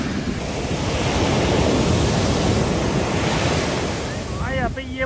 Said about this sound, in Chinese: 哇，这个海浪大！